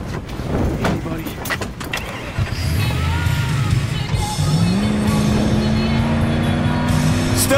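A car in Battlefield 4 starts off and accelerates hard, its engine rising in pitch under loud ambient noise, with brief voices and clatter near the start.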